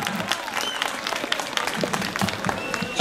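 Audience applause at a Circassian culture festival competition, a lively crowd clapping with sharp individual claps scattered over a dense bed, moderately loud and close, with a few voices mixed in.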